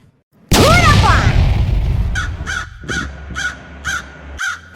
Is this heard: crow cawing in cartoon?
yes